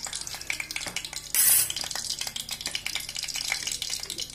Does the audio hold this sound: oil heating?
yes